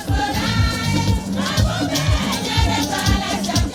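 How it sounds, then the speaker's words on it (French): Large crowd of political supporters at a campaign rally in south-western Benin, drawn by Patrice Talon's running mate, a dense roar of massed voices with rhythmic low drum-like thumps throughout, loud and continuous. "Une foule impressionnante de sympathisants drainés par la colistière de Patrice Talon au sud-ouest"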